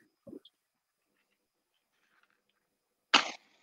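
A person on a group video call gives a short throat sound and, after a quiet pause, one sharp, louder cough, both close to the microphone with near silence around them.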